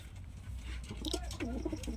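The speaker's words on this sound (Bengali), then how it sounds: "এই 4টে পায়রা আমার" Malbay racing pigeons, three females and one male, give soft low coos close by, with brief rustling and faint background voices.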